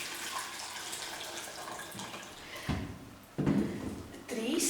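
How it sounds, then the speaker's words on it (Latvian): Water pours and splashes into a pot for dyeing eggs with turmeric, a steady rushing stream broken by clunks and shifts as the flow changes, close by. "Pievieno puslitram ūdens"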